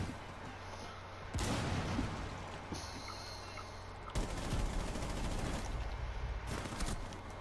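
Bursts of gunfire in the tactical shooter game Rainbow Six Siege, two dense volleys of rapid shots separated by a brief lull, loud and close.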